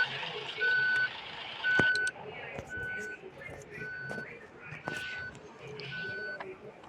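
A bus in a video game bus simulator gives repeated reversing beeps, evenly spaced tones over a steady engine rumble, with a voice talking intermittently.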